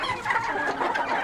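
Several backyard chickens cluck close by in a dense, overlapping chatter of short calls, steady throughout with no talk.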